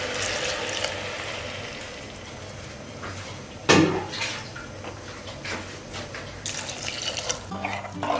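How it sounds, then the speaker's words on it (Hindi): Water is poured into a pot of moong and chana lentil dal with spinach, a steady close splashing pour with a brief louder gush partway through, plus faint kitchen clatter. "अब इसमें पानी डाल देंगे"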